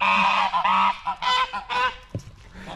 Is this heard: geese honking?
yes